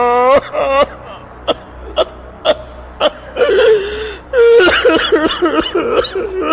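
A woman crying and sobbing close up, with hiccuping gasps and catching breaths in rhythmic bursts that build into loud, wavering wails.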